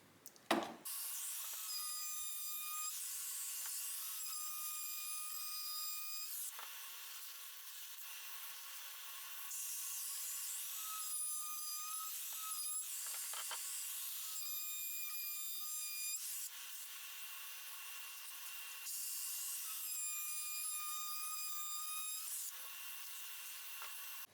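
A router with a 12.7 mm radius round-over bit shapes the edges of a wooden dummy leg, giving a steady, loud, high-pitched whine in several long passes with short dips between them; no one speaks.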